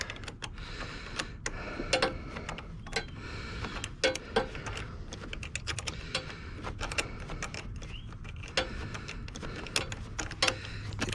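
A wrench loosens a battery terminal bolt on a 2008 Saturn Sky Redline, giving faint, irregular metallic ratcheting clicks and taps close by over a quiet background.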